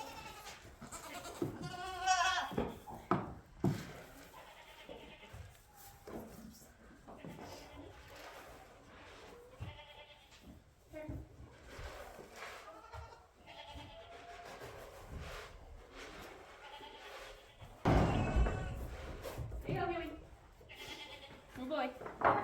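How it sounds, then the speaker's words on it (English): Goats on a homestead, the male herd at feeding time during evening chores, bleat repeatedly at close range, several overlapping calls spread across the clip with a loud burst near the end, while a person talks among them. "this is where the boy goats are"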